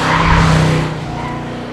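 Audi S4 with all-wheel drive driven hard, a loud engine roar with tyre scrub that swells briefly and then settles to a steadier drone, close and alone with no talk.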